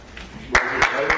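Brief burst of audience applause at a meetup in a room, a few loud clap bursts over a short span following a speaker's talk.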